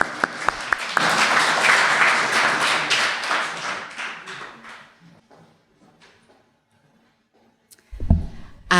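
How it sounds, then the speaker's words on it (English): At an awards ceremony, the audience gives a round of applause for the honorees. A few sharp claps lead into a full burst of clapping that fades out over about four seconds into near silence, followed by a couple of thuds. "one last round of applause for our honorees"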